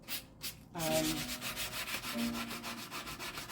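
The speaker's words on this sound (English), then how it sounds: "220 has a little bit more of a rough grit to it, so it's able to, you know, work down the wood filler or wood putty" 220-grit sandpaper worked by hand over wood filler on a large wooden dough bowl, a close, steady run of rhythmic rasping strokes after a couple of quick initial scrapes.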